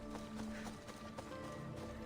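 Horse hooves clip-clop faintly in Assassin's Creed Odyssey, a soft quick run of steps that might include a whinny, heard alone over low game ambience.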